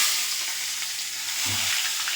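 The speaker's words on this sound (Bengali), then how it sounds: "এবার একটু পেঁয়াজ ফোড়ন দিয়ে দিচ্ছি" Steady crackling sizzle of onions frying in hot oil in a pan, with a brief low clatter partway through.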